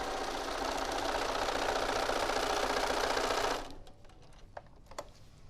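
Sewing machine running steadily as it stitches quilt fabric with a quarter-inch seam allowance, a loud, fast continuous whir for about three and a half seconds before stopping, followed by a few faint taps and clicks.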